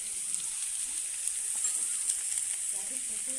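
Onions and potatoes frying in hot oil give a dense, even hiss and crackle that stays steady throughout, with nothing else over it.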